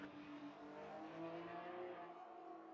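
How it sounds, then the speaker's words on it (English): A Porsche drift car built for street competition at Hawkeye Downs revs its engine steadily and loudly, holding a sustained harmonic drone with slight pitch wavering throughout. "The Porsche is really cool."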